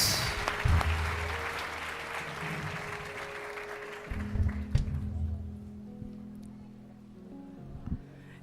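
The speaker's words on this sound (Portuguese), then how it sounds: "Dê um aplauso a Jesus, aleluia." Applause breaks out in a church congregation, loudest at the start and thinning out, with tonal sounds and a voice emerging over the fading clapping.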